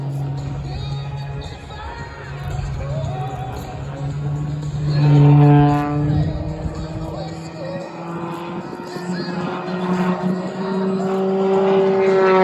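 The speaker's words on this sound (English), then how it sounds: "he'll slow the airplane down, continuing to hang it on the Hartzell propeller, backing it up in a torque roll" A propeller stunt plane at an airshow holds a torque roll, its engine droning and shifting in pitch, the prop note bending up and down, with crowd and background chatter mixed in and a public-address voice faintly present.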